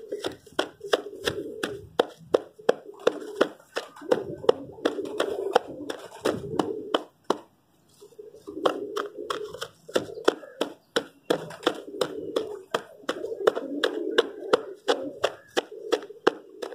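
Rapid, repeated sharp crunching and tapping sounds close by as calcium tablets are crushed by hand, a steady irregular rhythm with a short pause, under faint murmuring speech.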